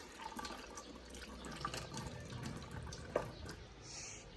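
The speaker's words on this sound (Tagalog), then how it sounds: "maghuhugas muna nga ako ng kamay" Tap water runs steadily from a faucet as someone washes their hands at a kitchen sink, a soft continuous splashing hiss with a brief louder splash near the end.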